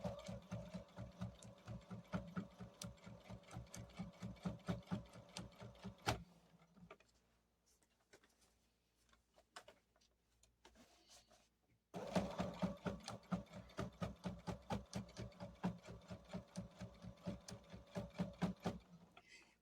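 A sewing machine stitching in the ditch on a small quilt runs in fast, even rhythmic bursts, pausing for several seconds of quiet handling before starting up again.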